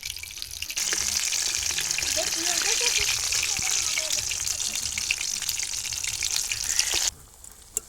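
Bean chops deep-frying in hot oil give a steady, dense sizzle that runs almost unbroken for about six seconds, then drops away to a quieter tail near the end.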